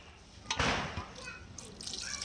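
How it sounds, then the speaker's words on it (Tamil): Water is poured into a large pot of mutton curry for seeri samba biryani, cooked over a big outdoor stove; a close splashing gush rises then settles into a steady trickle, with a voice talking over it. "கறி முழுகிற அளவு நம்ம தண்ணி ஊற்றிக்கலாம்"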